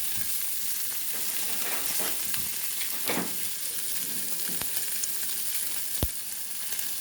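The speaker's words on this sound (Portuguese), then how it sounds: "Então, tô fritando aqui." Bacon frying in its own fat in a pan for potato rösti, a continuous crackling sizzle with occasional sharper pops and utensil scrapes, close and moderately quiet.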